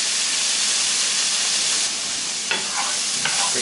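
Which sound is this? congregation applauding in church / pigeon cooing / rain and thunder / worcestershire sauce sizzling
worcestershire sauce sizzling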